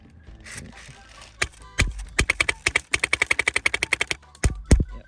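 An HPA airsoft light machine gun fires BBs in a rapid burst of sharp, evenly spaced cracks, loud and close, after a few single shots and mechanical clicks.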